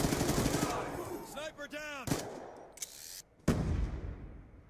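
MSMC submachine gun firing in Black Ops 2 multiplayer, a few short bursts and single cracks scattered among game effects and a talking voice, with a loud final shot.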